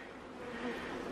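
Tiny honeybees buzzing around an open beehive box during inspection of brood and honey frames, a steady, close, fairly quiet drone that swells slightly partway through, with no talking.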